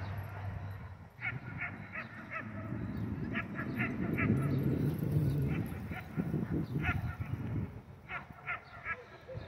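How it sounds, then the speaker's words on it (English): Several dogs bark at a dog park, likely German Shepherds in protection training nearby, with repeated mid-distance barks in bursts over steady outdoor background and a person speaking now and then. "got a lot of barking"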